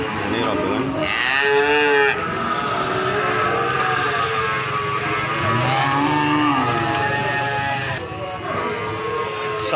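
Cattle at the Ambarawa livestock market moo loudly and repeatedly, several long calls overlapping close by amid a busy, noisy crowd background.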